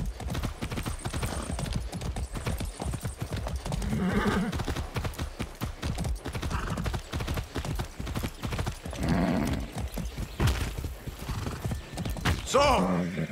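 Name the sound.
horse hooves and neighing in video game Far Cry 6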